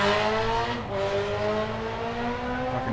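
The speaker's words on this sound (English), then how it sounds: "Fucking motorcycles." Motorcycles pass by outdoors, producing a loud, continuous engine drone with steady, rising and falling revving tones that fill the whole stretch. No one talks.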